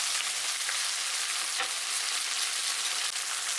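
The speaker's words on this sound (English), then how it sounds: "add the pieces of marinated beef. Spread them out. Let them grill for 1 minute." Marinated beef pieces sizzle steadily in a hot wok while being stir-fried, a continuous close, bright frying hiss with a few soft pops and no voices.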